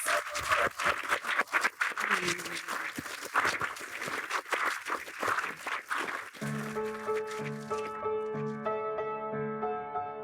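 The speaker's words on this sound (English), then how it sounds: "So let's just give everyone a big round of applause." Audience applause, a spread of clapping that runs for several seconds before giving way to a tonal musical outro with steady notes.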